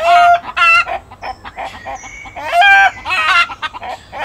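Chickens cluck and squawk loudly up close in agitated bursts, several birds calling over one another with short pauses between.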